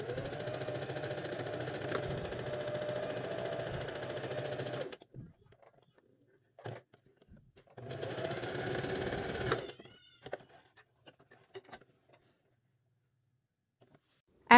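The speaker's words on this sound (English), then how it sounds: "then we're going to sew across that straight line" A sewing machine stitches straight seams across the boxed corners of a lined tote bag, whirring steadily in two long runs separated by a pause, with small handling clicks and rustles between and after, close and without speech.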